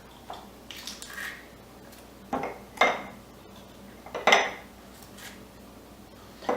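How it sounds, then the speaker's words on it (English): Garlic cloves pressed in a handheld garlic press while making cultured salsa: a few close, sharp metallic clicks and squeezes of the kitchen utensil, with no talk. "And crush it in the garlic press. 2 or 3 cloves."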